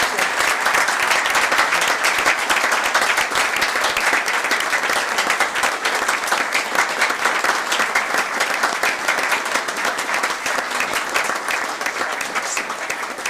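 A room full of people claps for a university team and its coaching staff at a city council meeting in Newport News, producing dense, sustained, loud applause throughout with no talk over it.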